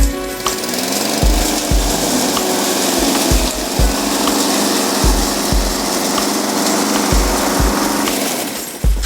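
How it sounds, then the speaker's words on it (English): Lawn mower running steadily nearby while chopping fallen leaves in a garden, a continuous engine drone broken by repeated low thumps and scraping bursts, no talk. "If you can mow your leaves, you'll find that not only does it make it very easy to collect them, but it also chops them up."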